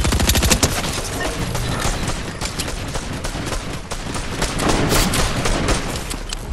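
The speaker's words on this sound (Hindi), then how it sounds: "डीएमआर का तो फिर फायर दे दो तेरे को" DMR rifle gunfire in a Fortnite match, a dense stream of loud rapid shots and impacts in continuous succession, with no speech.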